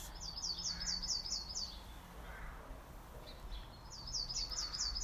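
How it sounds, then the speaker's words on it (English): Small birds outdoors give two quick bursts of high, rapid chirping, one at the start and one near the end, faint and distant over a soft background hush. "You might be able to hear the birds singing"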